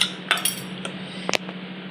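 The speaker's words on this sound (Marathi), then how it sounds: "आता तर हळून चमच्यानं काढून घ्यायच्या आपल्या इडल्या" A metal spoon clinks against a steel idli stand as soft idlis are scooped out, a few sharp light taps and scrapes close by over a steady low hum.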